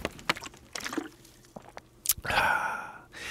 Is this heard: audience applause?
no